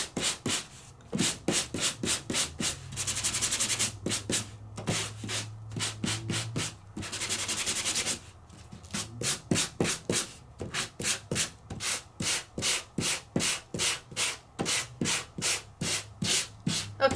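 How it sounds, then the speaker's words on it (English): Hand sanding a frame, rapid rhythmic back-and-forth scratchy strokes close up, in fast regular runs with a couple of brief pauses. "Let's just see if I can get some of it sanded real quick."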